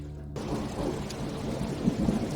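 Steady heavy rain with a low rumble of thunder builds into a storm ambience for a horror story, loud and close after a brief quiet start, with no voices.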